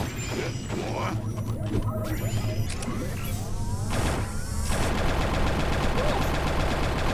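Loud cannon blasts and rapid firing from a Buzz Lightyear video game over busy electronic music, with a heavier burst of booming shots partway through.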